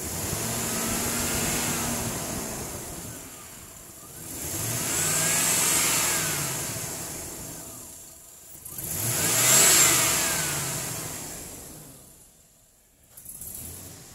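A 2001 Chevrolet Suburban with 255,887 miles running, its medium engine idling and then revving in three swelling rises that fall back between them, heard close with no talk.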